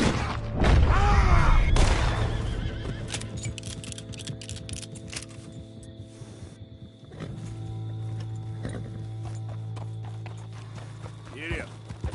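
A horse gallops in a PS4 video game, its hoofbeats thudding under game sound, music and dialogue, with a loud burst at the start and steady running after that.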